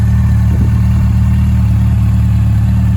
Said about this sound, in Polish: Obecnie motocykl bez DB killerów, także słychać, że chodzi.